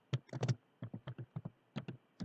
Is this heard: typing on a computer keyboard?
yes